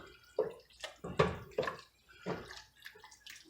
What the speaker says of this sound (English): I'm going to add water to the top of the pot